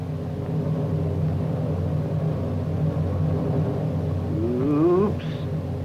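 A 1956 Chevrolet balanced on two wheels at a stunt thrill show gives a steady, continuous engine drone throughout, rising into a louder revving whine near the end before easing back.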